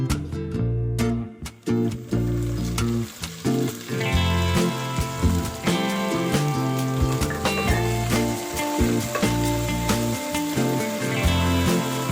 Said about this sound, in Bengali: সেই সবজিটাকে একটু ভেজে নেব